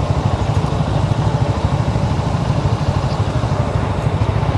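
Several motorcycles idle in a queue at the Padma Bridge toll plaza, producing a steady, close, low rumbling engine drone that holds unchanged with no gaps throughout.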